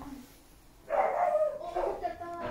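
Street dogs barking outside a semi-detached house, a few short barks and yips at moderate distance, with people talking faintly around them.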